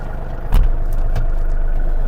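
A Yanmar US-330 mini tractor engine running steadily in first gear, a low, close mechanical drone with a clunk as it engages.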